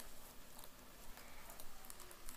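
Rain patters softly and steadily across a dark scene in a Roblox tower-climbing game, a faint continuous hiss with scattered light ticks.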